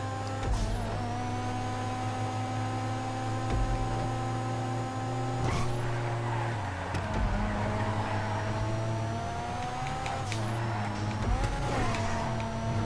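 Engine of a Monroe sports car racing in GTA 5, a sustained loud revving drone with steady harmonics that shift as it accelerates and changes gear, with other cars audible in the race.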